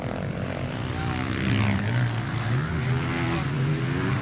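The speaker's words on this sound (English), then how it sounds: "Still David Goosen out on that 250 two-stroke." A 250 two-stroke motocross bike races at a national MX event. The engine revs climb and fall continuously, loud and close, with crowd and commentary sounding beneath it.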